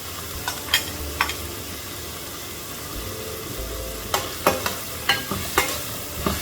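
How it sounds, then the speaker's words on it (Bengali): Potatoes fry in hot oil with cumin, bay leaf, dried red chillies and onion for a chicken curry, giving a steady close sizzle with sharp spatula scrapes and clicks that come in a quick cluster near the end. "এখন আলুটাও দিয়ে দিচ্ছি, আলুটা একটু সিদ্ধ হওয়া দরকার।"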